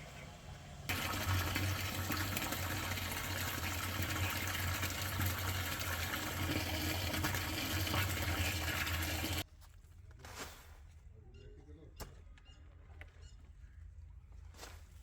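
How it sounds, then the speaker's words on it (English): A large bucket filling with non-chlorinated water from a tap, a loud steady gushing rush that runs for several seconds and then cuts off abruptly, leaving quieter scattered knocks and splashes. "Fill a large bucket or container with non-chlorinated water."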